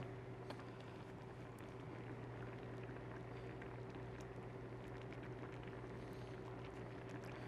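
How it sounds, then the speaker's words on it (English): Seafood paella broth with clams and mussels coming to a boil, a faint steady bubbling and simmering hiss with a low constant hum underneath. "you will see it starts to boil"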